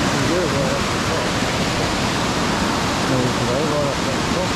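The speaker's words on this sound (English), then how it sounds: "I'm just going to let this waterfall speak for itself." A waterfall roars in Mount Buffalo high country in Victoria in autumn, a dense, constant rushing wash close by, with faint voices briefly audible beneath it.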